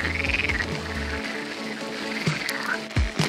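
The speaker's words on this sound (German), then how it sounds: "Die Kröten hier." Toads in the Spreewald wetlands during a spring bike ride, a dense chorus of rapid trilling croaks, loud and near, continuing steadily with a few louder individual calls breaking through.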